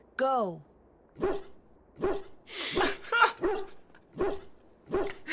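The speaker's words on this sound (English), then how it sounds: "That's my neighbor's dog." A neighbor's dog barks about six times in a steady rhythm, sharp and fairly close, with a short spoken word and a brief vocal sweep at the start.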